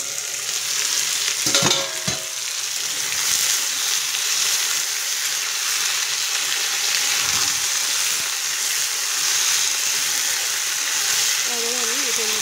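Potatoes and small fish sizzle steadily in a hot pan while being stirred, a constant frying hiss with occasional scraping clatters of the spatula and lid, close and fairly loud.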